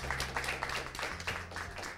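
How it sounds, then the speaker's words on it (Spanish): Applause from a small audience at a Mother's Day gathering, a soft, brief patter of clapping with a low steady hum underneath, heard for about two seconds. "Aplauso para ella."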